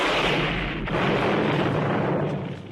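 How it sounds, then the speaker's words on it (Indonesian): A mine in the film Rambo: First Blood explodes after a bazooka hit, a loud, sustained, rumbling roar that fills the whole stretch and tails off slightly at the end. "Melihat tambang tersebut meledak"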